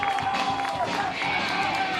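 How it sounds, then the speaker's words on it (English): A high school boys' sports crowd from an Oak Park versus Simi match roars and cheers steadily after a goal, a dense wash of voices throughout with commentary mixed in. "The crowd making some noise."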